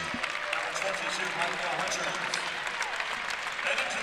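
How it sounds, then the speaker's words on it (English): Basketball fans at Crisler Center applauding during a women's college basketball game, a steady wash of clapping and crowd noise at a distance, with commentary voices running over it. "The fans of the Chrysler Center applauding as Olsen goes out"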